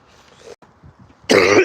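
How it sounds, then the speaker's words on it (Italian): A single loud cough bursts out at the end on an uphill mountain trail, after a stretch of faint background noise and quiet. "Oggi c'è una tosse."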